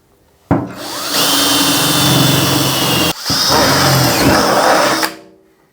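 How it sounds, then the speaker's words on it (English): A loud, close power drill bores into a car's boot, running steadily for about two and a half seconds, stopping briefly, then whirring again for two more seconds before winding down. "something possessed me to drill a hole in the boot"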